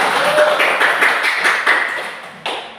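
Students clap together in a classroom, a short burst of dense, close hand claps lasting a few seconds that thins out toward the end, with a brief louder clap near the close.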